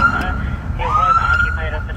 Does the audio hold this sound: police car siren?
yes